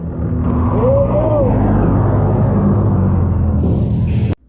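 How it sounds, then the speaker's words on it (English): Side-by-side UTVs, a two-seat Honda Talon and a four-seat Kawasaki KRX, mud racing at a Mountain Mayhem event, their engines roaring loud and sustained with a rising whine before cutting off abruptly near the end. "Now we got a two-seater Honda Talon versus a four-seater KRX."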